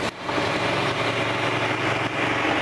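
A John Deere tractor engine drones loudly and steadily close by as the rear hitch lifts, with a brief dip at the start and no talk.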